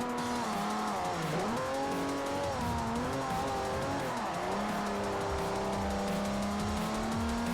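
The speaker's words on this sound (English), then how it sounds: "The engine noise in this one is less obnoxious than the last one." Race car engine in Forza Motorsport 4, revving hard up and down through gear changes with tires squealing in corners, loud and continuous throughout.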